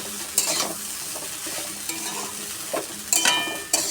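Sweet pulao with sugar stirred in a wok, a steady scraping churn under a light sizzle with a few sharper clinks of the spoon against the pan, close and fairly loud, no voices.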